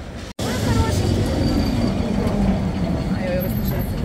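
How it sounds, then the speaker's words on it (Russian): A tourist tram in Lisbon rumbles past close by with a steady rolling din, a voice talking over it and faint squeals from the rails. "Туристический вот такой вот трамвайчик"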